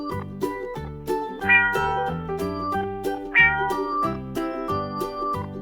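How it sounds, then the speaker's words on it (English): A cat meows in a rhythmic, musical series of tones, clear and close, with no talking. "This is a cat."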